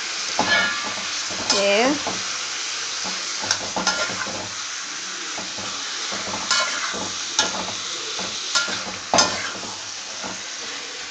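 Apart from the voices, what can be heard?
stirring chili powder frying in pan for cashew chicken curry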